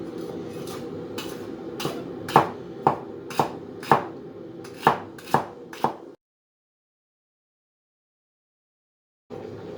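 Celery is chopped with a knife on a board, about ten sharp, evenly spaced chops close up, then silence.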